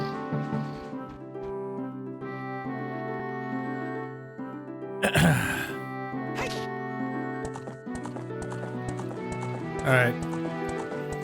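Horse hooves galloping in The Legend of Zelda: Ocarina of Time 3D, a few quick clattering hoofbeat bursts breaking through steady, loud game music in the background.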